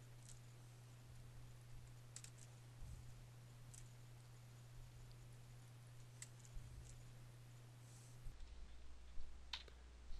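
Light typing and clicking on a computer keyboard while entering grade weights in an online course gradebook, scattered soft keystrokes over a faint steady electrical hum.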